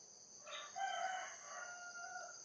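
A rooster crows once, a drawn-out call at moderate distance, over a steady high insect-like hum.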